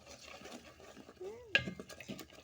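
Faint scraping of a spoon stirring potatoes and cauliflower as they sauté in oil in a pot over a wood-fired stove, with one sharp clink of metal and a brief soft voice.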